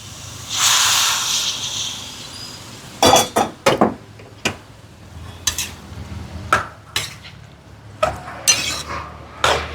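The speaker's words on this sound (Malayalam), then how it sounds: "ഈ ചൂടുവെള്ളം അങ്ങോട്ട് ഒഴിച്ചു കൊടുക്കാം." Hot water poured into a hot cooking pan releases a brief loud hiss, followed by a run of sharp metallic clinks and knocks of utensils against the pan, all close up with no talking.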